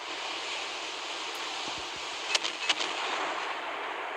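Naval guns aboard the Pr. 21 Lenin ship in the Naval Creed video game fire a couple of quick, sharp shots close together over a steady hiss of wind and sea ambience.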